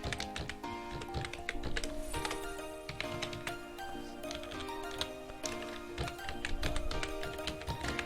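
Someone types an email ID on a computer keyboard. Rapid, uneven key taps and clacks continue for about eight seconds over steady background music.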